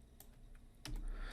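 Computer keyboard typing, a few faint isolated key clicks followed by a firmer press, all brief and quiet.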